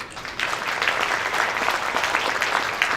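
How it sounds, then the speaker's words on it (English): Seminar audience clapping to welcome honored guests at an evening session on Jammu and Kashmir, a dense, even burst of applause from many people that swells after a brief quiet start. "Please join me in welcoming our honored guests with applause."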